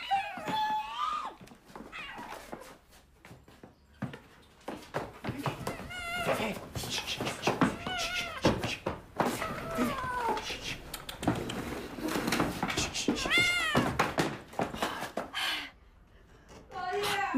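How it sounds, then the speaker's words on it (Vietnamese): An indoor cat meows repeatedly, with a series of wavering, rising and falling cries, some drawn out like caterwauling, close and fairly loud, mixed with people talking and gasping nearby. "Đừng để con mèo kêu, nhất định không được kêu."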